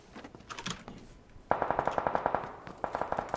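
Rapid automatic gunfire in the PUBG video game, two close bursts of evenly spaced shots, loud and sharp, following a quieter stretch of softer shots.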